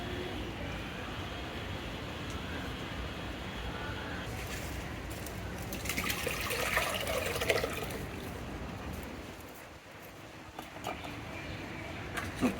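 Tomato squeezed by hand into tamarind water for a Tamil fish curry, a steady wet sloshing and squelching, close and continuous, with a brief louder splashy stretch near the middle.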